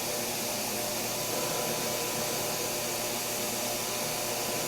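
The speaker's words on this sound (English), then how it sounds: "using a carbide parting tool" A carbide parting tool cuts off stock on a manual lathe, making a steady, fairly quiet hiss and whir with no breaks.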